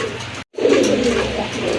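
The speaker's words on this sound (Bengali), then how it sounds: "মাশাল্লাহ আরেক পেয়ার কবুতর ছিল" Fancy pigeons, Iranian golla among them, coo close and loud in a low throaty burr after a brief silent gap, the murmuring call rolling on steadily.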